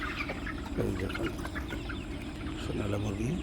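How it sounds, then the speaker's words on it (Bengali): Sonali chickens clucking at night among a flock, several low murmuring clucks and short calls close by, with someone talking over them. "সোনালী মুরগি।"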